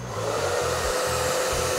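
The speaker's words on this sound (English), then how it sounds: "So we're gonna start out with cool air blowing low." A hair dryer on its cool, low setting, powered by a Suaoki 400Wh solar portable power supply, gives a steady, loud continuous airflow whir with a slight wavering hum and no talking.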